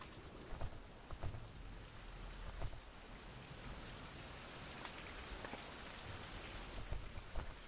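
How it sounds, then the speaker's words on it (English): Steady rain in a video game patters on surfaces, soft and continuous, with a few louder drops standing out and no talking. "It's raining now."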